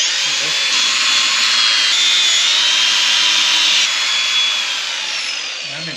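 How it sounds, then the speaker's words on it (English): An angle grinder works metal on an axle during a teardown, a loud continuous high-pitched whine with a steady gritty rasp, holding for several seconds before easing off slightly at the end. "So I'm just going to grind a little bit."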